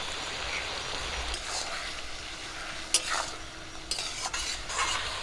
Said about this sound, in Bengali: লবণ হলুদ দিয়ে মাংসটাকে কিছুক্ষণ ভাজা করে নেব